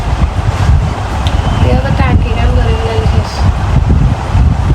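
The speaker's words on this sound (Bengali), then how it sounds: "এটা হচ্ছে টানেলের ভিতর, প্রচুর বাতাস ভিতরে।" Strong, steady wind roars through a road tunnel running under water, a continuous loud rush filling the whole clip with a faint low engine hum beneath it.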